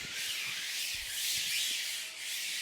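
Hand rubbing artwork onto a screen-printing screen to fix it in position: a steady, continuous hiss of friction with slight swells, close and alone.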